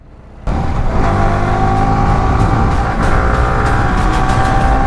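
A four-wheel vehicle's engine revs hard while pulling in third gear, starting after a brief quiet moment and then holding a loud, sustained, strained drone with harmonic whine, close by with no talking.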